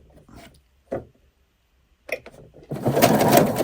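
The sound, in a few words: sewing machine stitching a shirring row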